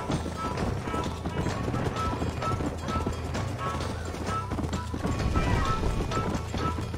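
A horse race in Red Dead Redemption, set in the Wild West: steady galloping hoofbeats at a fast rhythm under busy game ambience, fairly loud and continuous for the whole stretch.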